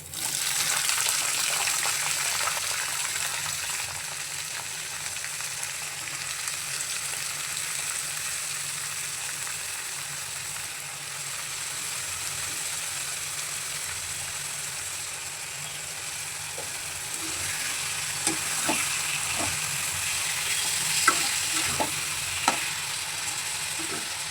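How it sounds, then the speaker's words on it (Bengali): Sliced bitter gourd frying and being stirred in a pan with lightly browned fried onion and garlic: a continuous faint sizzle and hiss, with scattered clicks and scrapes of stirring becoming more frequent toward the end. "এই যে কেটে ধুয়ে রাখা করলাগুলো দিয়ে দিচ্ছি এই হালকা লাল লাল করে ভাজা পেঁয়াজ আর রসুনের মধ্যে"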